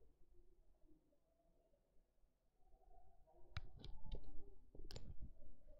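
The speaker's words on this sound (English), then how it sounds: "I'm erasing the question number 5." A board eraser rubbing across a classroom board in a series of short scraping clicks and swipes, quiet at first, then several brisk strokes close by.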